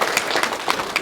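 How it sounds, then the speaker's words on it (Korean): An audience at a business leadership seminar claps for a member at the speaker's request, producing a brief, loud burst of dense, lively applause with close, crisp hand claps. "다시 한번 본인을 위해서 박수 한번 부탁드립니다"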